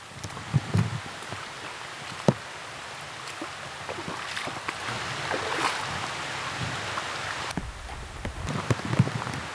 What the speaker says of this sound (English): Oh boy, that's rain.